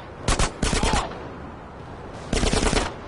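Automatic gunfire in GTA San Andreas Definitive Edition, two quick rattling bursts close together, a pause, then a third longer burst, loud and near.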